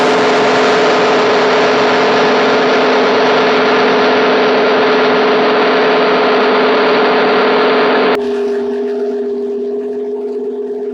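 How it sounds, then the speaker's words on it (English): A disc sander spins while squaring the ends of a pen blank for a Wall Street II pen kit, a loud steady motor whine with a rushing grind that drops abruptly near the end to a quieter hum as it winds down. "we're going to turn this on so we can square up both ends of our blank"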